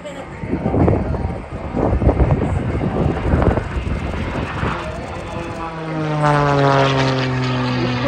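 A propeller aircraft flies aerobatics at the Australian International Airshow 2023: a buzzing engine drone with gusting wind noise, then a clear, rising, whining pitch sweep as it passes close overhead.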